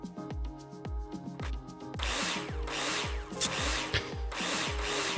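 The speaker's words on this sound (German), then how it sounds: "jetzt schrauben wir da" Power drill in a construction simulator game driving screws, a series of short whirring bursts first with brief gaps, then a longer continuous grinding run with a few sharp clicks, no talking.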